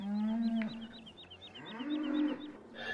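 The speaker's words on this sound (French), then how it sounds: "Regardez un peu les vaches." Cattle in a barn in Farming Simulator 17 give two long, drawn-out moos, one near the start and another midway, over a repeating chirpy bird call and light ambient game sounds.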